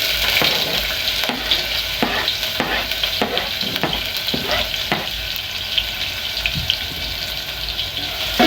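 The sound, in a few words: onions frying in a pot for pilau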